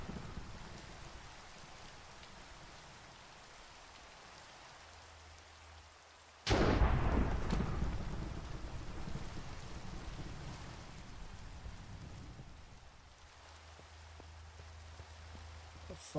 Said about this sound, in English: Oh, I heard thunder.